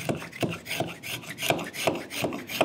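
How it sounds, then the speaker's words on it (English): A spokeshave shaves a marking gauge held in a vise, giving a close, rhythmic run of rasping strokes about three per second, steady and moderately loud with no talk. "I can either use the spoke shave like this"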